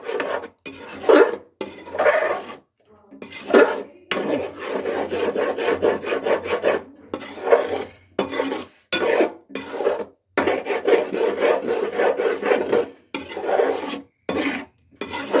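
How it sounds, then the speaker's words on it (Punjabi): A spatula scraping and stirring masala of grated tomatoes roasting in a pan for a soybean curry, with repeated rasping strokes in an uneven rhythm and brief pauses between them, close up and with no voices. "ਚੰਗੀ ਤਰ੍ਹਾਂ ਹਿਲਾ ਦਾਂਗੇ ਇਹਨੂੰ ਤਾਂ ਜੋ ਸਾਡਾ ਇਹ ਵੀ ਮਸਾਲਾ ਤਿਆਰ ਹੋ ਸਕੇ"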